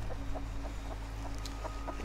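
Chickens in the survival video game Rust cluck in short repeated bursts, fairly faint over a steady low hum of game ambience, with no voices.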